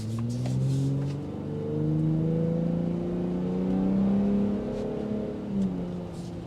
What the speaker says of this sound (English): I like the exhaust note that filters in